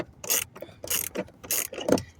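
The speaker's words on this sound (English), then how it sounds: "Let me take them other two screws out." Screws come out of the cabin filter cover on a 2015 Ford F150 under a 9/32 extended ratchet. Four short, close bursts of clicking ratchet sound are separated by brief pauses.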